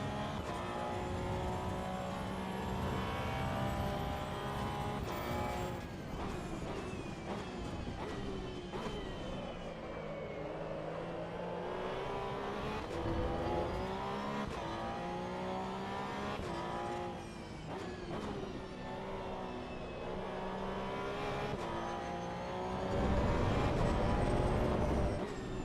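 Porsche Cup race car in the Assetto Corsa Evo racing game at Laguna Seca, engine held at full throttle with rising and falling revs, loud and continuous, with tire noise and no talking.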